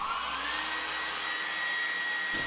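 A hair dryer blows continuously on an iPhone XR display to soften its glue, with a steady whooshing roar and a faint high whine, close by and unbroken.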